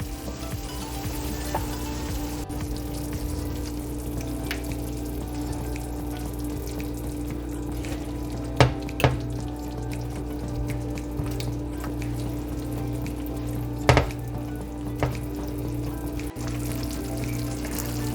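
Chicken livers with garlic ginger paste fry in a pan: a soft, steady sizzle with low hum underneath and a few sharp clinks of a utensil.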